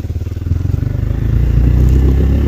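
A Hero XPulse 200 motorcycle on a Spiti Valley ride near Kaza chugs along with a loud, steady thumping engine beat that builds slightly as it rolls to a stop to park, close up and without voices.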